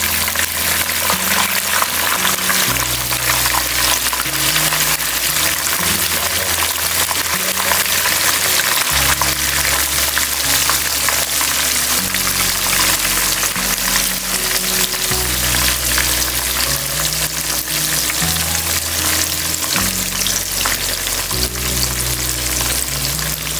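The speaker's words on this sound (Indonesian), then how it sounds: "Dan si tempenya saya goreng ya teman-teman. Minyaknya udah panas ya." Tempeh fries in hot oil with a loud, continuous, close sizzle and bubbling that never lets up, over a low background melody.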